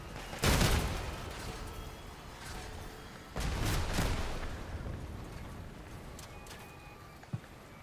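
Gunfire from a player-built vehicle in the Crossout video game: two heavy booming shots a few seconds apart, each trailing off into a rumbling decay, with a small click near the end.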